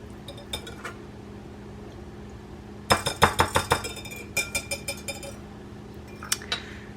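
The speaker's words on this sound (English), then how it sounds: "Give that a nice little stir." A spoon clinks against a bowl while stirring a steak marinade with chopped ginger, giving quick bursts of rhythmic metallic tapping separated by quiet pauses, close and fairly clear.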